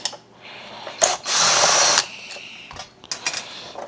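A power drill backs screws out of the bottom of an Electrolux vacuum nozzle. One loud, steady whir runs just under a second, with short bursts and clicks before and after.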